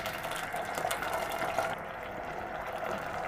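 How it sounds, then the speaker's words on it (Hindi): Half a cup of water pours into a pan of shashlik sauce made with chili sauce and soy sauce, a soft, continuous splashing trickle that runs faintly and alone for a few seconds. "हाफ कप हम इसमें पानी ऐड करेंगे।"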